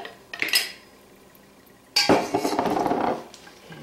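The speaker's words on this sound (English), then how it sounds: "Give it all a stir so everything is evenly coated." Grilled chicken salad with peanut dressing being stirred in a bowl, two bursts of utensils clinking and scraping against the dish, the second longer and louder, with a pause between.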